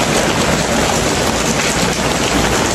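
Heavy rain pours outdoors in a dense, constant hiss of drops striking surfaces, loud and unbroken throughout with no voices.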